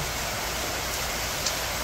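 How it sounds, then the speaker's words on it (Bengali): Steady rain pours down over a village, a dense, even hiss of falling drops that holds without pause throughout the short stretch. "দেখো যে কেমন বৃষ্টি নামলো।"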